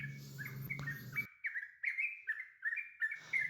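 A sooty-headed bulbul, known as trucukan, gives a run of bright, clear chirping notes in quick rhythmic phrases, close and fairly quiet. It follows a brief burst of noise at the start.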